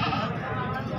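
A goat bleats at a goat farm, a dense, continuous bleat filling the whole moment, close and fairly loud with crowd and livestock noise blended in.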